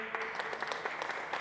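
An audience claps together at a Raama Raajyam Foundation first anniversary event, a dense patter of many hands with a steady rhythm, moderately near, with no talk over it.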